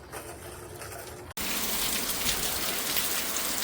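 Heavy afternoon rain falls in a village, a dense steady roar of downpour that cuts in suddenly after a quieter patch and stays loud and close throughout.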